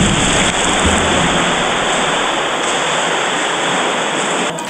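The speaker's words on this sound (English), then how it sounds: "the best way for me to warm up is just to do some really intense front crawl" Intense front crawl swimming in a dimly lit pool makes loud, continuous rushing splashes that fill the whole stretch without a break.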